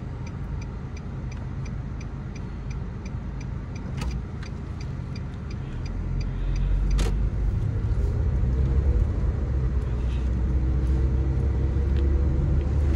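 Interior of a car being driven during a driving exam: a steady low engine and road rumble that swells slightly midway, with faint regular ticking of a turn signal.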